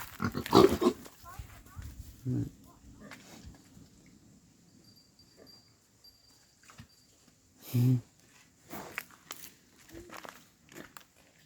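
A big pig grunts and snuffles close by in a farm setting, with a couple of louder bursts among quieter shuffling and rustling, while people talk over it.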